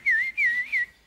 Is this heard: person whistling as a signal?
yes